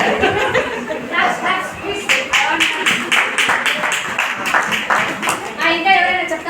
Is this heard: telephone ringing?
no